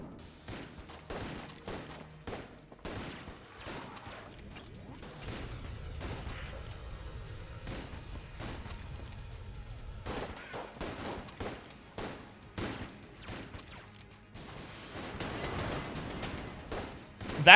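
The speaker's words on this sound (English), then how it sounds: "That airstrike was shot in that exact direction just to kill the Beholstling" Rapid volleys of sharp gunfire and blasts from an airstrike in the Enter the Gungeon video game, dense and loud throughout, with a final heavy burst at the very end.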